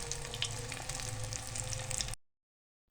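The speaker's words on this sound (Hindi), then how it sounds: "शामी हमारे फ्राई हो चुके हैं" Chicken shami kebabs fry in a pan with a steady, close crackling sizzle that cuts off abruptly into silence before a brief return.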